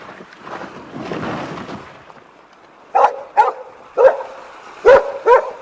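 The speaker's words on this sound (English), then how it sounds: "Go on, Tim. Bark. Hunt around. Sniff everywhere" A dog barks on a seashore landing, five sharp, loud barks in an uneven run after a stretch of softer rustling and wind-like noise.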